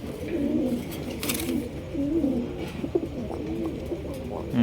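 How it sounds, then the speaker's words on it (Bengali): A pair of Mondi pigeons at a farm cooing in repeated low rolling calls, fairly close, with faint background noise and no talk. "এখন ডাকতেছে এখানে রয়েছে একজোড়া মন্ডি কবুতর"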